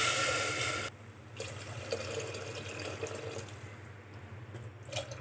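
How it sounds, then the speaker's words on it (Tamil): Water pours into a pot of frying masala and ginger garlic paste for vegetable biryani, a steady gushing splash that softens after the first second, then trickles and drips, with no voices. "தண்ணி தேவையான அளவு ஆட் பண்ணிக்கோங்க."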